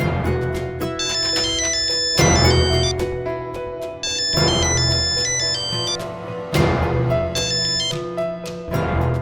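A telephone ringtone plays as someone places a call, a loud repeating melodic ring in four bursts about two seconds apart, with no talk over it.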